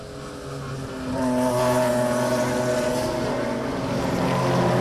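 BMW race cars on a circuit during a club race, their engines droning and rising in pitch as they pass close by, a sustained loud mechanical whine building over several seconds.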